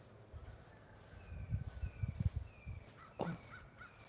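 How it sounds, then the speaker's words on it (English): A few faint crow caws in the distance outdoors at sunrise, over a constant insect buzz, with some nearby rustling and footsteps. "I'm hearing the hawks and the crows and everything"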